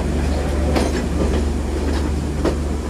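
A train rumbles past steadily with soft rhythmic clacking of wheels on rails, a continuous low drone close by.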